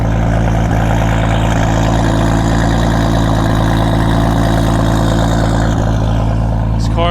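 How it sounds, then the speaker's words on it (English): A 1997 Toyota Supra Turbo with a big Precision turbo idles loudly and up close, a deep, steady, slightly lumpy rumble with no talking. "This car just sounds so angry."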